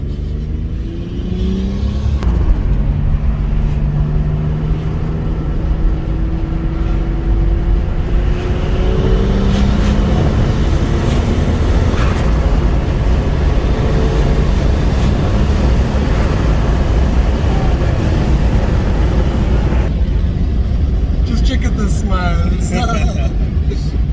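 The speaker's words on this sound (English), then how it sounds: "When that turbo starts to just pull like this, yeah, it's awesome." A VR6 engine fitted with a GT35 billet clone turbo pulls hard under acceleration, a loud rising drone heard from inside the car that climbs in pitch in several sweeps, with voices talking over it.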